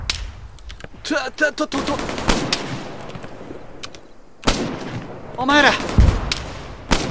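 Enemy sniper fire in ARMA 3 cracks out in sharp, loud bursts, some clustered and echoing, separated by a quieter stretch, with a voice speaking briefly over the shooting.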